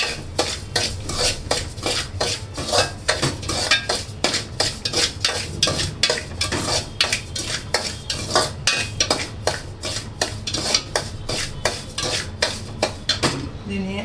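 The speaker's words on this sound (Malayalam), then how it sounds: "ഒരു 4 സ്പൂൺ നെയ്യ് ഞാൻ ഒഴിച്ചിട്ടു. അതോടിട്ട് നമുക്കിതൊന്ന് നല്ലതായിട്ടൊന്ന് മൂപ്പിക്കാം." A metal spoon stirs and scrapes steadily around a pan of food roasting in ghee, a rapid string of close clinks and scrapes over a faint cooking hiss, with nobody talking.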